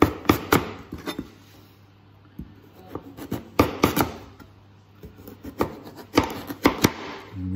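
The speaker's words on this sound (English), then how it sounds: "I'm going to cut these into roughly 1 centimeter wide pieces." A knife chopping swede into roughly one-centimetre pieces on a board, heard as crisp close knocks in quick uneven clusters with brief pauses between runs of cuts.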